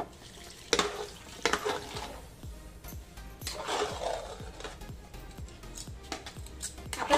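Boiled water poured into roasting semolina sheera with ghee, sizzling and bubbling in the pan, with scraping stir strokes and repeated clinks of a utensil against the vessel throughout.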